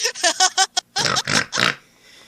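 A human voice imitates a pig trying to bark: a quick run of short nasal grunts followed by three longer, rougher squealing oinks, loud and close, ending in a faint breathy tail.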